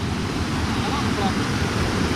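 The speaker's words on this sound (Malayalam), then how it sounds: "നല്ല ശബ്ദമുണ്ട്, വെള്ളം ഒഴിക്കണതിൻ്റെ നല്ല ശബ്ദമാണ്" Keezhanthoor waterfall near Kanthalloor, Munnar, with water pouring down in a steady, dense rush that holds level throughout, close and loud, with no voices over it.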